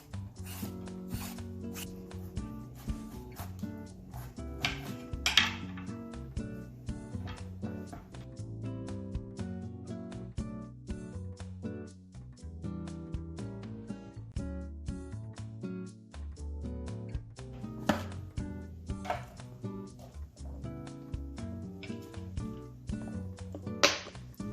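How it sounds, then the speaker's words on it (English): Bottle gourd being trimmed and peeled by hand in a home kitchen, a long run of quick scraping peeler strokes and occasional knife chops, close and fairly quiet, with no talking. "So first I'm going to cut the 2 ends out, and then I'm going to now peel it, peel the skin out"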